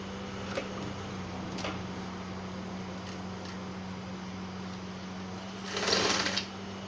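A sewing machine stitching the facing of a senator top gives a soft, steady mechanical whir over a low hum, with a few faint ticks and a brief louder rustle near the end.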